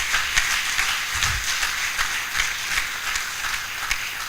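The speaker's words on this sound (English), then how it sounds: "Please give him a round of applause." Audience at an induction ceremony for medical laboratory science gives a sustained round of applause, an even wash of clapping with a few sharper claps, moderately loud, with a brief low thump partway through and no speech.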